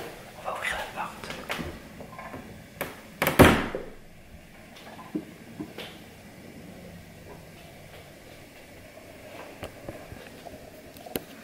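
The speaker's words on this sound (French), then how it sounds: "On va ouvrir la porte." A house door being opened inside a family home, a brief close clunk and creak standing out over soft room noise, with someone speaking quietly around it.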